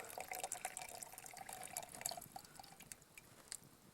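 Water from steeped pine needle tea drips and trickles as it is strained outdoors, a steady patter of small splashes and drips throughout, close and fairly quiet.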